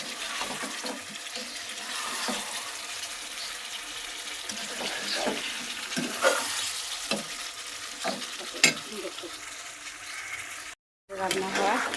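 Chicken and potatoes frying together in a pan, a steady sizzle with stirring scrapes throughout, and a person talking over the cooking.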